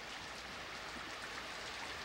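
Steady, soft hiss of falling rain at a 1600 battle camp, an even wash of drops with no voices, continuous for the whole moment.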